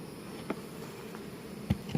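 Honeybees in an open beehive box in Florida give off a faint, low, steady buzz, with a few brief louder bursts near the end and no talking.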